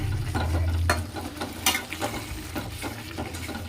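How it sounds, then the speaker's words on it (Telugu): Fish curry sizzling and frying in a pan while being stirred, with a steady low sizzle under several scraping strokes of the spoon against the pan. "కొద్దిగా వేగినాక మళ్ళీ తిప్పుతూ ఉండాలి కింద, లేదంటే అడుగు వండుకుంటూ మాడిపోతుంది."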